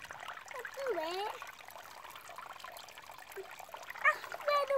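Water trickles and dribbles over a metal detecting find being washed outdoors in the UK, a steady close splashing that runs through the clip, with voices chatting on top of it.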